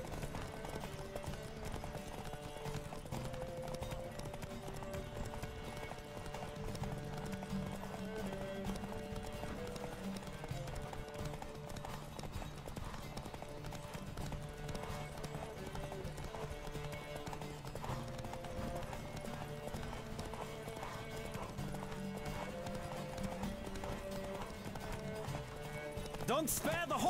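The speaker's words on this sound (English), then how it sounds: "Don't spare the horse!" Horse galloping in a race in The Witcher 3 video game, a steady fast drumming of hooves under game music and voices, continuous throughout at moderate level.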